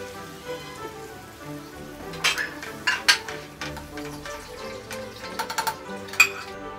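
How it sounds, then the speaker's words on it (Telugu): Tamarind juice being stirred into simmering tomato gravy in a pot, a soft bubbling sizzle with irregular light clinks of a spoon against the pot, close and fairly quiet. "ఇప్పుడు చింతపండు రసాన్ని ఇందులో కలుపుకోవాలి"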